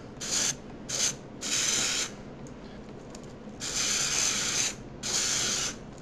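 A small can of spray paint hisses in six short and long bursts onto a box, close and clear, with quiet gaps between sprays.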